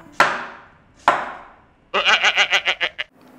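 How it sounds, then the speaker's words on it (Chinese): Two sharp knife chops through red apples on a cutting board, each with a decaying ring, followed by a quick rhythmic run of about eight slicing cuts, close and clear with no talking. "苹果对半切开，切头去尾，挖掉果核，切成厚度均匀的薄片。"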